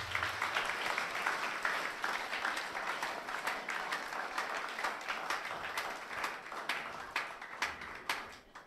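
A church congregation applauds during a service, a dense sustained burst of clapping from many hands with sharper individual claps standing out as it tapers near the end.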